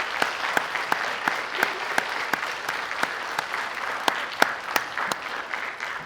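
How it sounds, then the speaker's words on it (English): A crowd at a fire academy graduation ceremony claps in a steady, even patter, with several louder individual claps standing out, heard from a moderate distance with no talk over it. "Audience, please give our members a round of applause."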